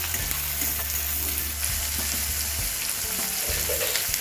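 Curry leaves, green chillies and onions fry in a hot pan, making a loud, continuous close sizzle with a low background hum throughout.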